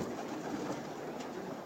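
Pigeons coo softly in a sunny, protected loft hallway lined with perches, a faint, close murmur over a quiet background hum.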